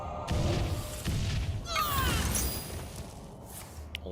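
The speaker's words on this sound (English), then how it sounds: "Arcane missiles." Arcane Missiles cast in Hearthstone: a deep magical boom, then a sweep of bright whooshing, zipping streaks, and a fading shimmer as the spell resolves.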